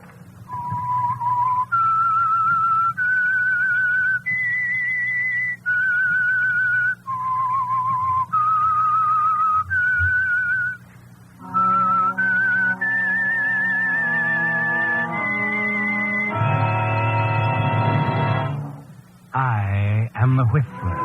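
A single whistler performs the eerie theme signal for The Whistler radio program, a slow sequence of clear sustained notes rising and falling, ending with a fuller orchestral swell joining in.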